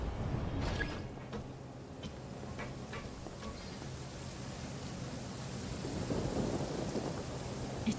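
Steady rain with low rumbling thunder in the video game Genshin Impact, a continuous wash of rainfall with a few faint crackles throughout.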